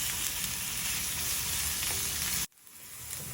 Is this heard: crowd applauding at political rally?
no